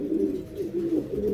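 Pigeons coo steadily in a loft, a low continuous burbling with repeated rising and falling phrases, close and moderately loud, no talking.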